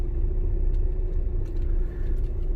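A Tata car drives along a road during a driving lesson, with a steady, loud engine hum and low road rumble heard from inside the cabin.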